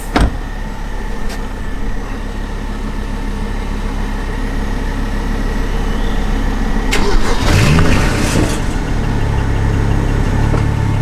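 A Ford Focus ST engine runs steadily at idle, then grows louder and rougher partway through as it revs up, with no voices.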